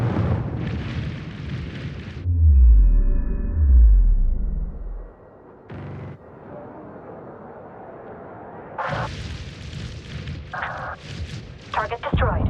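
Warships firing weapons in the space strategy game Homeworld 3: heavy booming blasts and low rumbling impacts with sharp bursts, loud and close, alongside faint radio-style voices.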